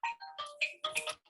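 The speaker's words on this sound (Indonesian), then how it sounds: "Ada telepon Pak Asmi." A phone ringtone chimes through a short melodic phrase for an incoming call, bright repeated tones sounding clearly and close with no talk over them.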